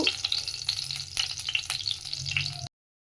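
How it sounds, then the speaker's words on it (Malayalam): Dense crackling and popping sizzle of mustard seeds spluttering in hot oil, continuous and close, with no voices, then cutting off abruptly. "നമുക്ക് എണ്ണ ഒഴിച്ച് കുറച്ച് ആദ്യം കടുകിടാം"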